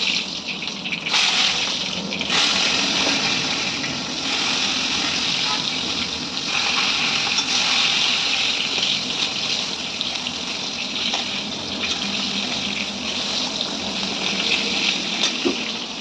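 Tap water gushing steadily while chicken is washed in a home kitchen, a continuous close rush of water with someone talking over it.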